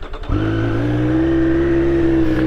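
A Triumph Street Triple RS three-cylinder motorcycle engine catches after a brief crank and settles into a steady, close idle with a smooth, even hum.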